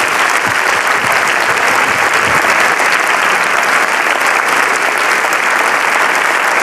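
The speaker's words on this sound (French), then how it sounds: "Vous l'applaudissez?" A theatre audience in Monaco gives sustained, dense applause at the final of the French game show Des chiffres et des lettres, loud and even throughout with no speech.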